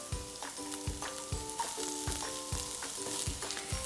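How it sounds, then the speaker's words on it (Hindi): Finely sliced onions sautéing in a hot pan for a Chinese bhel puri, a loud steady sizzle punctuated by rhythmic scraping stirs roughly every half second, with no talk. "Just we'll saute it a little जब तक इसका raw smell ना disappear हो जाए."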